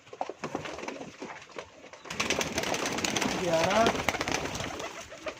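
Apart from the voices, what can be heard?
pigeons cooing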